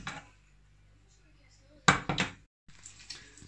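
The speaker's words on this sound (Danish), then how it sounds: "52 frikadeller, som jeg steger her." Meatballs (frikadeller) frying in a pan at a home housewarming cook-up, with sharp utensil clatters against the pan over a low steady kitchen hum, then a brief gap and quieter scraping.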